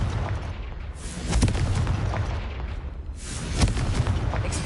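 Two loud, booming blasts from the Confringo blasting curse in the game Hogwarts Legacy, each swelling and then trailing off in a rumbling wash, spaced a couple of seconds apart.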